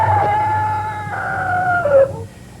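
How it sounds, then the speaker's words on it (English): A rooster crows once in a long, loud drawn-out call that wavers and drops at the end, close by. "now you're not greeted officially until Henry crows from the fence post"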